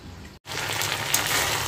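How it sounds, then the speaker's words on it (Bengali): Steady, dense sizzling of okra frying in a pan, close and fairly loud, with a brief drop to silence near the start. "ঢ্যাঁড়স ভাজা কিন্তু আমার অলমোস্ট কমপ্লিট, নরম হয়ে গেছে ঢ্যাঁড়সগুলো।"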